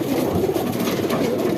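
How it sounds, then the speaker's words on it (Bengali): Pigeons cooing in a loft, a soft continuous murmur of overlapping coos from several birds close by, steady and fairly loud throughout. "এই যেগুলো এই বাটির কবুতর"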